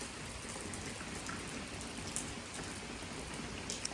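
Steady rain falls continuously, a dense even hiss with scattered sharper drops, and no voices.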